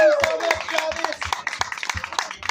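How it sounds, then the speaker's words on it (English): A small audience gathered in a backyard gives a round of applause, with scattered, uneven claps in a loose rhythm under talking voices, fairly close and moderately loud. "Can we get a round of applause for Hutch?"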